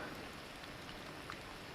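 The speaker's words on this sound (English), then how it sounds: "it's starting to rain" Rain falling in Bay St. Louis, Mississippi, after Hurricane Katrina, a faint steady hiss of drops with a few soft patters on a surface and no voices.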